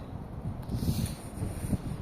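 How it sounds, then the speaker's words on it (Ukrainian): Strong wind roars and howls outdoors on a street, a steady, close, rumbling gust noise buffeting the microphone with swelling surges and no other sounds standing out. "Боже, такий вітер аж реве. Виє, реве, жесть."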